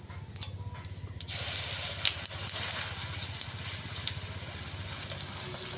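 Semolina batter with cumin seeds ladled into about two spoonfuls of hot oil in a pan, bursting into a loud, steady sizzle and crackle after a brief quieter start, close up with no talking.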